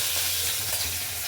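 Hilsa fish pieces frying in hot oil in a pan, a steady close hiss and crackle of sizzling throughout the short moment.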